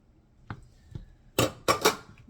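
Pasta is tossed into a creamy basil sauce in a pan, with a few close clinks and scraping knocks of a utensil against the cookware, without talk.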